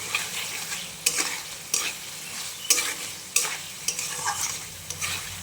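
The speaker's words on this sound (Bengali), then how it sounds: "সরটাকে একদম বেটে নিতে হবে, ভালো করে মিহি করে বাটতে হবে" Fresh milk cream (malai) is ground until smooth, producing a rhythmic series of wet scraping strokes about every half second. Each stroke is close and distinct, with no speech.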